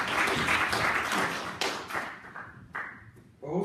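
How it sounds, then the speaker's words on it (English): A conference audience at the YI #FreeBritain Conference 2016 applauds in a dense, loud burst that thins into scattered claps and taps within a few seconds. "We could have a big round of applause."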